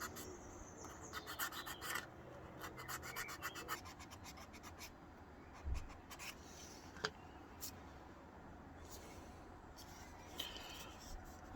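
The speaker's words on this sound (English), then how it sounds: "I'm just trying to sand out some of the lines that I've cut in here to make them a little less obvious" A carved beech wood spoon is sanded by hand with 400 grit sandpaper. Faint, close, irregular rubbing and scratching strokes come in short bursts, with occasional light clicks and no speech.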